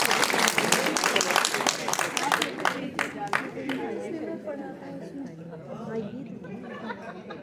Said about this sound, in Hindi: और अगली आवाज का जोरदार से तालियों के साथ स्वागत करिए सत्यम सिंह।